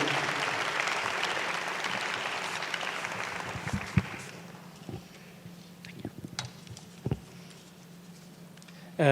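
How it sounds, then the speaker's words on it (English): Applause from a crowd fills the first few seconds, then fades into scattered claps and quiet room noise. "So help me to bring on stage, by round of applause, Mr. Samia Goyal from World Bank"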